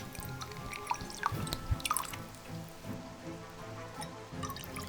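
Canned pineapple juice poured into a cocktail, a soft trickling and dripping of liquid over about five seconds, fairly quiet and close.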